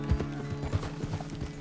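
A horse in Red Dead Redemption 2 clip-clops along at a walking pace, its hooves soft and fairly distant beneath a low ambient game soundscape.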